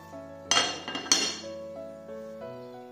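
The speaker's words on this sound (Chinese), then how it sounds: "把洗净的蚝豉和瑶柱加到汤锅中一起煲" Washed dried oysters and scallops drop into a soup pot with a quick cluster of clinks and knocks against metal, then settle under a steady low hum of background music.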